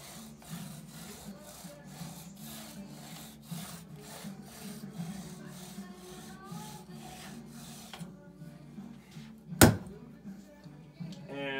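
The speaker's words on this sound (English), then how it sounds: "You just rotate that as you're sharpening it." A fillet knife is drawn over and over through a knife sharpener, producing a quick run of rhythmic rasping strokes up close, then a pause and one sharp click.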